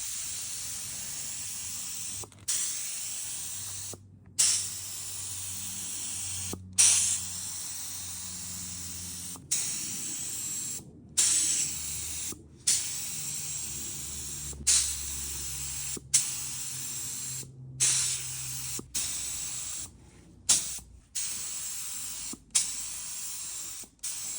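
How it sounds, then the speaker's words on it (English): Repeated bursts of a cheap Harbor Freight paint spray gun hissing, each lasting a second or two, separated by short pauses, close and fairly loud. "Cheap old Harbor Freight spray gun."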